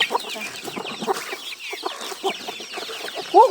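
A flock of farm chickens clucks continuously in a garden farm, many overlapping soft clucks and chatter up close, with a sharper squawk right at the end.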